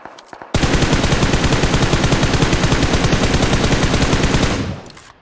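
Automatic weapon gunfire in the mobile shooter game PUBG Mobile, a loud, sustained rapid burst lasting several seconds, preceded by a few single shots and then cut off abruptly.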